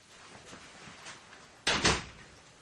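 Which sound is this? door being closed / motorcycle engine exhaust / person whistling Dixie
door being closed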